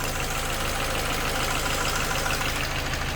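Peugeot 207cc engine idling with a newly fitted alternator and its belt turning, a steady close mechanical rumble with a fine ticking rhythm that holds unchanged throughout, no talking.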